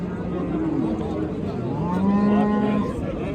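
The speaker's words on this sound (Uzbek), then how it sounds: "Yosh sigir ekan." A young cow moos at an open-air livestock market in Jizzakh region's Bakhmal district, one long, drawn-out call up close over a busy backdrop of crowd chatter.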